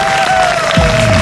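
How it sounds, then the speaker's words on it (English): Audience clapping at a fursuit exhibition, a steady wash of applause from the crowd with a tonal hum running through it and a brief low sound rising near the end. "A big round of applause for our Minty fabulous friends."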